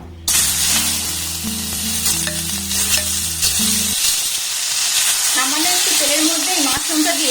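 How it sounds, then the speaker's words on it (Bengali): Drained mushrooms with a little turmeric fry in hot oil, a steady loud sizzle with scraping stirs, while a musical tone plays at the start and a voice briefly talks later. "আমি খুব ভালোভাবে ভেজে নেব"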